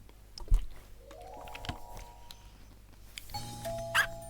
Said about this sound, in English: The sound of the doorbell is elegant and serene.